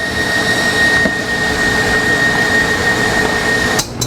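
An electric mixer whirs loudly and steadily while beating egg whites, a close, continuous motor drone with a faint high whine that cuts off near the end.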